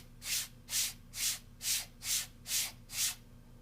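Sandpaper blocks used as a musical instrument, rubbed in seven short, evenly spaced forward strokes, each a soft gritty swish in a steady rhythm, close and alone.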